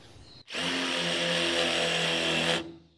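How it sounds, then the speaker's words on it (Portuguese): A Bosch GDX 200 impact driver fitted with an 8 mm multi-construction bit drills into a concrete block, a loud steady whine and grind held for about two seconds before it stops. "Fazer um furo aqui, GDX 200, broca multi-construction, a mesma de 8 milímetros, bloco de concreto"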